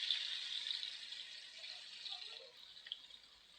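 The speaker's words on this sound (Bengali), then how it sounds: "মাছগুলো উল্টিয়ে দেব। বেশি ডিপ ভাজবো না," Hilsa fish frying lightly in shallow oil in a pan, a steady soft sizzle and crackle with faint spatters as the pieces are turned over, no voices.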